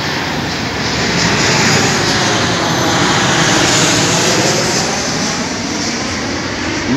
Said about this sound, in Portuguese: Esse avião aqui passa raspando o fio, viu?